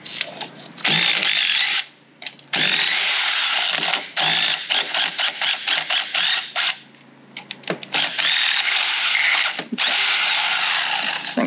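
A power tool whirs in repeated bursts, buzzing 10 mm side cover bolts in and out on a Go Power Sports MB200 minibike, with short pauses and quick stuttering pulses between longer runs.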